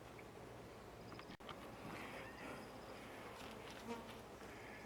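Honey bees flying in and out of a busy homestead hive make a steady, close buzzing hum, with individual insects briefly passing louder over the drone.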